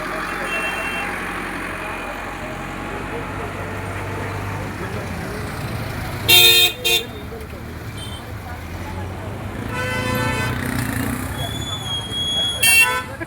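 Vehicles pass along a crowded road on a weekly market day during the Diwali bazaar in Mandavgan Pharata, with a steady traffic rumble and several sharp horn blasts. People talk throughout.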